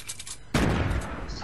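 A sudden loud gunshot blast in Fortnite Battle Royale on PS4 cuts in after quieter game sounds and rings on into a dense, noisy tail.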